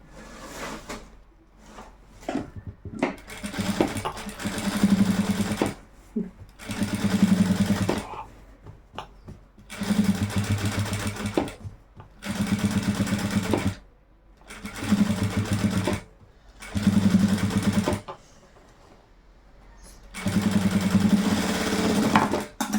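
Sewing machine stitching a vaddanam half-saree, running in repeated bursts of a few seconds each with short pauses between, close and fairly loud with no talk.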